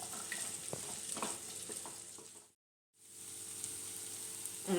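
Vegetables sautéing in a pan with salt and pepper, a steady soft sizzle with scattered ticks of stirring, broken by a brief moment of silence before the frying resumes.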